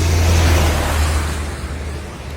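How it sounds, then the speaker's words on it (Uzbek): Cars pass on a wet road in the rain near Syrdarya, a loud broad hiss of tyres on water that swells close by and then gradually fades as a vehicle moves away. "Mana shu kelayotgan mashinalar yomon yomg'ir sochiratyapti bor-ku."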